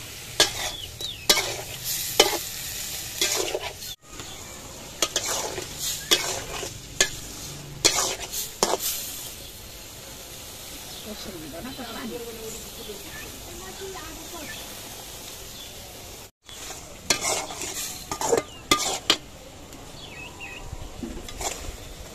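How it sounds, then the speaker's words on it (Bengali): Prawns fry in a pan, a steady sizzle broken by repeated scraping stirs, loud and close, with a brief voice in the background. "এখন চিংড়ি মাছটা ভেজে নিচ্ছি"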